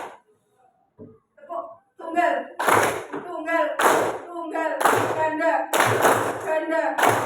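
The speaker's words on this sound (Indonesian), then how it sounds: "Tepuk ganda." A group performs a clapping exercise with sharp double hand claps, starting sparse and building into loud, distinct pairs of claps at close range, with spoken cues between them.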